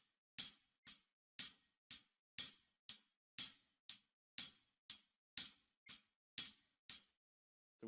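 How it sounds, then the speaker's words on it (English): A hi-hat plays steady, even eighth notes at 60 beats per minute, each crisp metallic chick ringing briefly before the next. "let's try playing just the hi-hat, the 8 notes on the hi-hat at 60 beats per minute"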